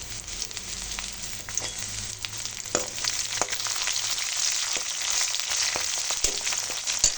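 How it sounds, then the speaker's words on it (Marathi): Garlic and green chillies fry in a pan with a steady, bright sizzle. Occasional stirring clatters and pops sound close by, and no one speaks. "लालसर लसूण झाल्यावर थोडी हिरवी मिरची टाकली."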